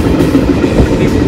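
A local train runs on the Banihal–Srinagar line through a small Kashmir village, a loud, dense rumble of wheels and carriages heard close from on board, steady for just over a second.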